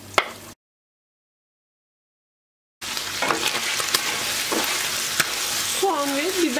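Dry onion and Charleston and sweet green peppers sauté in hot oil with a dense, close sizzle and stirring scrapes. A brief burst of sound is followed by a gap of silence, then continuous frying resumes.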